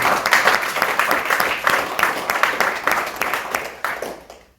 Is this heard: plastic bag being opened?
no